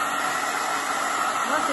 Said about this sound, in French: je vais aller chercher mon séchoir. Et ça aide bien à sécher.